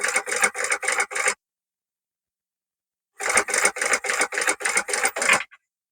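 Sewing machine stitching slowly around a small fabric pouch, giving rapid rhythmic bursts of needle chatter. A run of about one and a half seconds is followed by a pause, then a longer run that stops abruptly. Close, alone, no voices.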